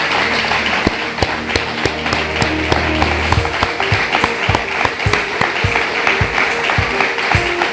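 A church congregation claps together in a strong round of applause, sharp, fairly regular beats of many hands over a low background tone and a sustained hum.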